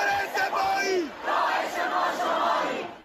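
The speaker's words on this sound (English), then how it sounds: "In Tehran, crowds shouted for Iran's supreme leader, Ayatollah Khamenei, to step down." A crowd of protesters in Tehran, Iran, shouting together in a dense, sustained roar of many voices, with one rising cry near the start and no clear pauses throughout.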